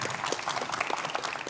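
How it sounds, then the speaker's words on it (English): Audience applause welcoming panelists at a STEM students' chat with entrepreneurs: dense, lively clapping from a crowd, moderately loud and continuous over the short span, with no speech. "Please join us in a big round of applause"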